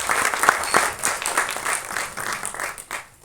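An audience at a film album song screening festival applauds, with uneven individual claps standing out from a moderate crowd of clapping that rises and dips before thinning out.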